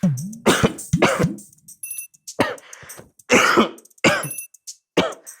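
A person coughs and clears the throat repeatedly in a comedy sitcom scene, a series of harsh, close bursts separated by short pauses, several sounding strained and voiced.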